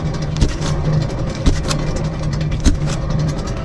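A rough, worn wheel bearing on a car spinning during a service check gives a steady grinding rumble, with faint periodic knocks recurring about once a second.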